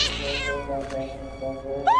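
A cat meows loudly and up close in a dramatic film scene, a drawn-out cry followed by a second rising meow near the end.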